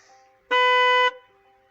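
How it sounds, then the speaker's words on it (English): A car horn with one of its horns disconnected sounds a single clear honk of about half a second, loud and close, with a bright stack of harmonics. Quiet background comes before and after. "what we're going to have to do is just disconnect the horn in here"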